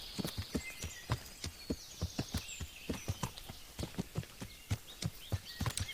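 Steady clip-clop of horse hooves in the video game Kingdom Come: Deliverance, a quick regular rhythm of sharp thuds close up, over a faint high background hum.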